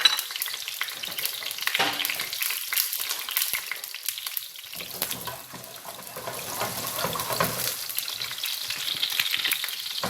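Sliced garlic fries in about four tablespoons of oil for koshari, giving a loud, close, busy sizzle and crackle that runs throughout. Scraping stir sounds rise and fall, and no one speaks.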